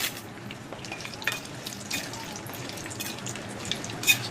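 Around ten dry red chillies crackling in hot oil for tempering a pickle, a quiet close sizzle broken by small pops and a sharper crackle near the end.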